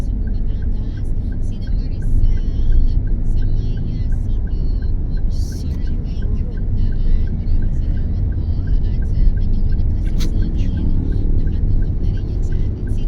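Car engine pulling away slowly during a driving lesson on a road lane, a steady low rumble and hum filling the cabin, with a calm voice instructing quietly over it.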